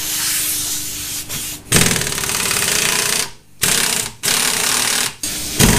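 Camber bolt on a rusty Subaru rear coilover being spun by a power tool, loud close buzzing bursts in several runs broken by short pauses.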